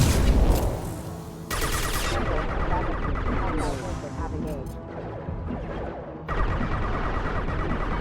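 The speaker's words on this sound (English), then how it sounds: "Taking heavy fire." Heavy sustained gunfire and blasts from the video game Mass Effect Legendary Edition, loud and dense, with game voices speaking over the barrage.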